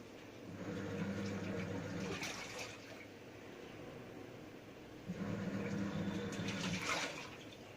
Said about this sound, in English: This is the proper wash cycle that's happening right now.